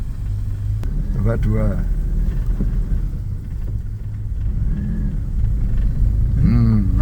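The engine of an old carbureted Toyota Kijang Krista rumbles steadily at a low pitch and rises slightly as the throttle is blipped, while people talk over it.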